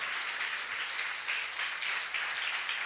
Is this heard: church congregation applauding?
yes